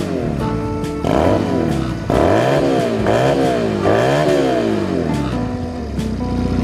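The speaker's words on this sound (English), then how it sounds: "Let's give it a couple of revs." A Honda Rebel 250 motorcycle engine revs several times, pitch climbing and falling with each throttle blip over a steady idle, loud and close.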